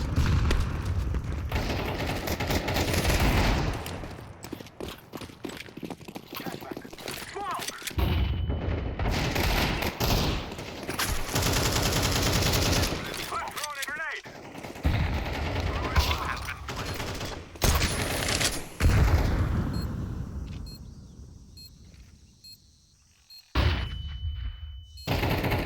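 Gunfire in a shooter video game, with bursts of automatic rifle fire and single shots coming in loud clusters separated by brief quiet gaps, plus faint game sounds and occasional talk.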